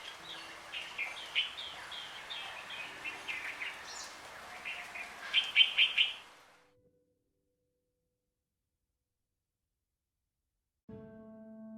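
Small songbirds chirp and twitter busily at a backyard feeder, a dense run of quick high calls at moderate distance that stops abruptly, leaving silence before a brief unrelated tone.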